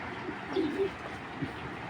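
A soft, low coo from a female racing pigeon sounds once or twice against a steady background hum.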